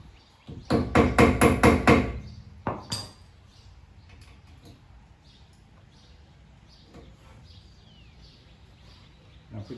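Hammer strikes on a 2006 Chevrolet Impala rear brake rotor during a brake job, a quick run of about six loud metallic taps followed by two more blows, then quiet workshop background.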